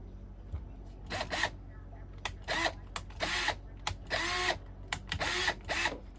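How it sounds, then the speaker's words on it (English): A power drill bores into the wood behind padding in the salon of a 1984 Chris-Craft Catalina 381 boat, running in several short whining bursts that rise and fall in pitch, close and loud over a steady low background. "By the way, I'm just drilling into the wood here."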